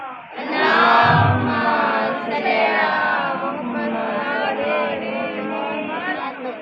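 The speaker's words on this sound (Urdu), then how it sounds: "سارے ہاتھ اٹھا کے جا کر پھر نعرے کا جواب دیں" A crowd at a Muharram majlis in Hammand Ka Chak chants back a religious slogan together, a loud massed roar of voices sustained through the whole stretch.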